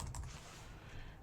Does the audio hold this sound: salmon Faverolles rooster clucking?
no